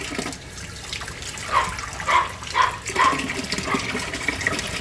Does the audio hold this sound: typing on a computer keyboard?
no